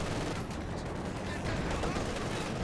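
Gunfire from the World War II strategy game Company of Heroes 2, a dense continuous clatter of rifle and machine-gun shots that runs steadily through the whole stretch with no pauses.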